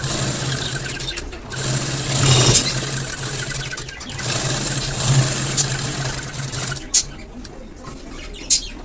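A sewing machine runs slowly while stitching a Punjabi dress top, its motor giving a steady close hum and whir that pauses briefly between runs, with a couple of sharp clicks near the end.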